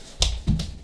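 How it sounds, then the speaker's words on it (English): Two quick hand claps come from someone juggling plastic bags, crisp and close, about a quarter second apart. "I'm going to do some clapping"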